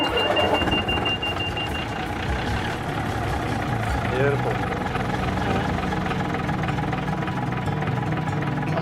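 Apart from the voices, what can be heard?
6-cylinder Gardner Marine diesel engine starting on railmotor RM93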